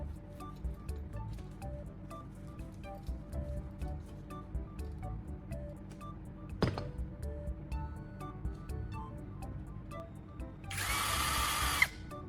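A handheld drill spins a carbon rod as its tip is shaped against sandpaper, a steady low whir with light ticking and scraping, then a short burst of louder gritty grinding near the end.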